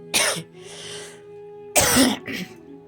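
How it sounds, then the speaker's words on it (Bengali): Two bouts of harsh, close coughing from a person with a cold, each a pair of rough bursts with a brief gap between them. "ঠান্ডাও লেগেছে বেশ ভালোই কাশি হচ্ছে"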